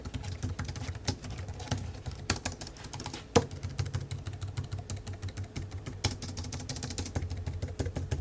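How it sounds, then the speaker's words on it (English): Typing on a Logitech K585 membrane keyboard: a quiet, continuous run of soft muffled keystrokes with irregular rhythm and one sharper tap, no clicky switch sound, no talking. "Here's a typing test for y'all to hear what the Logitech K585 keyboard sounds like."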